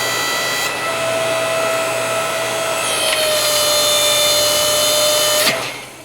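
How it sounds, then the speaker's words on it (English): A Yardworks two-speed electric log splitter runs at fast ram speed, its motor whining steadily and loudly under strain. A brief crack comes near the end, then the motor note drops away. "You could hear the motor was straining."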